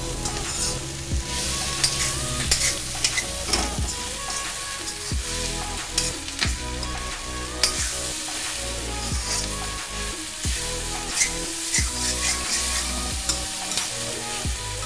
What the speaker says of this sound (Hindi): इसको अच्छी तरीके से मिक्स कर लेंगे। पाँच सात मिनट इसकी भुनाई करेंगे।